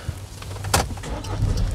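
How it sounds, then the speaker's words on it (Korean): A car engine starts during a Korean Class 1 ordinary licence road test: a short, sharp cranking burst catches, and a low, steady idle rumble follows close by. "시동 걸어주고"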